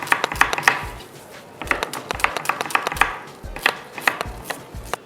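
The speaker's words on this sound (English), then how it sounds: "We make the julienne onions." Onions being chopped into julienne strips on a board, a quick run of close, crisp knife taps in uneven bursts with short pauses between.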